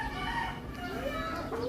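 A hen clucks in a backyard chicken coop, a run of warbling, rising calls close by over a steady murmur of background noise.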